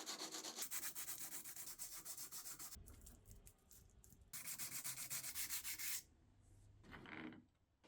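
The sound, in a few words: sanding a Damascus knife with sandpaper lengthwise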